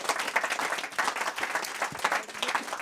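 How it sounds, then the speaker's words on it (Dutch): Audience applause at a Dutch talk event about urban religion, between church and yoga mat: steady dense clapping from a seated crowd, fairly close and continuous for the full stretch with no voices over it. "applaus mag dat wel eventjes"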